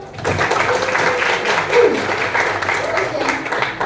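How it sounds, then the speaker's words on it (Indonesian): Students in a classroom applaud together in a dense, even wash of clapping that holds steady at close range for several seconds. "Oke, tepuk tangan buat kalian semua."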